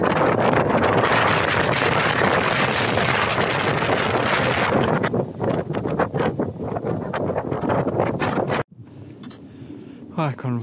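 Strong wind blows in snowy Romanian mountains, roaring loudly against the microphone for several seconds, then easing into lighter gusts. Near the end it drops out suddenly to near quiet, and a voice is heard.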